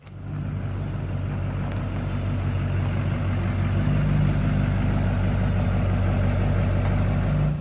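Duramax pickup truck engine idles nearby with a steady, low diesel rumble, running continuously without revving for several seconds before cutting off abruptly.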